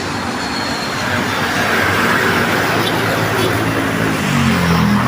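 A continuous broad roar of a landing airplane's engines, loud and steady, swelling slightly toward the end as it passes overhead.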